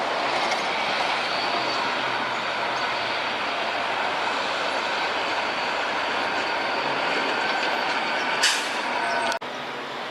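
A Long Island Rail Road train, number 502, rolls past close by with a sustained broadband rumble and wheel noise for the whole stretch, ending in a brief air-brake hiss near the end.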